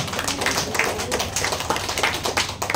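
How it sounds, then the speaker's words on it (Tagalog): A church congregation in Makati gives thin, scattered applause: a light patter of individual claps that stays steady and fairly close throughout, with no voices. "Parang tipid na tipid kayong pumalakpak."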